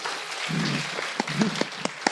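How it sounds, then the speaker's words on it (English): A brief burst of applause from a small audience, fairly quiet, trailing off into a few scattered claps. "Give her a round of applause."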